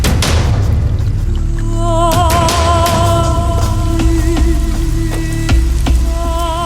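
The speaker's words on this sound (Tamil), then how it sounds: "என்ன திடீர்னு மழை வந்துருச்சு?" Sudden rain falls in a TV drama scene, dense patter under sharp cracking thuds, with a steady tonal hum and music running throughout.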